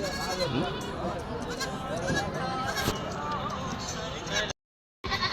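Goats and kids bleat repeatedly amid a busy, crowded sheep and goat market din in Kadiri, with people talking and haggling throughout; the sound cuts out briefly near the end.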